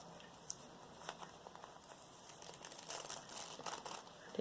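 Sellotape rips layers off a roll of washi tape in a close, soft crinkling and tearing texture, with scattered small crackles and peeling rasps that build slightly toward the end.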